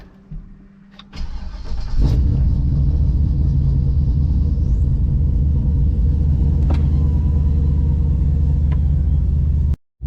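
A turbocharged GMC pickup truck towing a new 20-foot, 10,000-pound trailer, heard from inside the cab as the engine starts and settles into a loud, steady, deep rumble with faint clicks, cutting off abruptly at the end.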